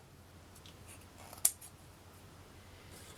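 Scissors snip out paper shapes close up, with faint, quiet cutting and one sharp snip standing out in an otherwise hushed room.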